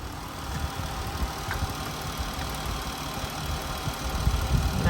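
A Ram ProMaster van engine idles with its cooling system freshly refilled, a steady low rumble with a faint knocking texture heard up close, continuous and unbroken, with no talking.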